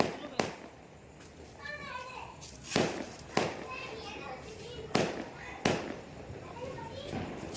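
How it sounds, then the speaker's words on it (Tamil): Firecrackers burst outdoors during a Sivakasi fireworks session, several sharp loud bangs spaced a second or two apart, with a whistling rise before one, while adults and children talk and call out throughout. "பறந்து பறந்து வெடிக்குது"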